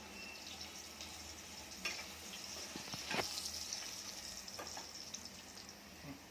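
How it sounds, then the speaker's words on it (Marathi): Vegetables sautéing in oil for a drumstick curry, a soft steady sizzle with a few sharper crackles and clinks from stirring, fairly quiet throughout. "त्या भाज्या पहिल्या तेलामध्ये आपण परतून घ्यायच्या"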